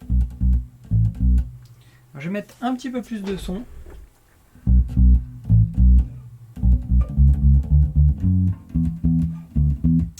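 Short, clipped staccato bass guitar notes, each cut off sharply, played in bursts with someone speaking briefly in the middle; the bassline of a song.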